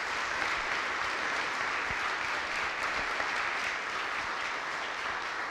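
An audience at a 2018 service awards ceremony claps steadily in a room, a sustained wash of applause that holds at even loudness throughout without voices.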